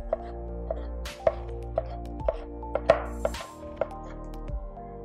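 A knife chops a jalapeno into thin strips on a cutting board, with a steady run of about ten crisp, close taps at a regular rhythm, each one sharp and distinct.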